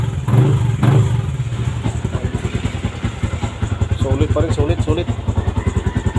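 A Yamaha Sniper v2 motorcycle after almost two months sitting stock, its engine starting with a couple of loud bursts, then settling into a close, steady, rapid putter that runs to the end, with a person speaking over it.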